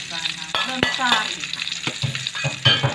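Onions sautéed with bay leaves and lemongrass in a pan for Acehnese curry, heard as steady close sizzling broken by sharp scrapes and clinks of stirring utensils.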